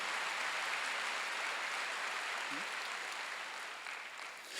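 A church congregation at a Sunday worship service breaks into a continuous wash of applause, steady and full, easing off slightly near the end.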